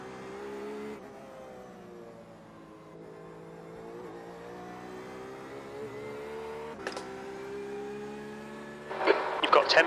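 GT2 Corvette race car engine at Sebring, a steady droning exhaust note with layered harmonics that holds through most of the run, then rises into a louder, harsher burst near the end.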